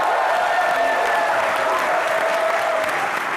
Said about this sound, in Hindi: एक बार जोरदार तालियां फवाद और सोनम के लिए।